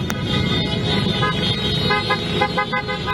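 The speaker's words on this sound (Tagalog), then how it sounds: "sabay-sabay silang nag-ingay sa pamamagitan ng busina ng kanilang mga motor" Many motorcycle horns honk together in a dense, continuous chorus over engine noise, with overlapping beeps and toots, at a protest outside the Chinese Embassy in the Philippines.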